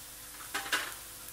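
Chopped onions frying in a pan for a green moong dal masala curry give a low sizzle, broken by two quick spoon scrapes close by, with no talk.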